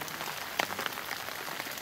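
Steady rain pattering through a forest near a city at night, a soft continuous hiss with a few sharper drops falling close by.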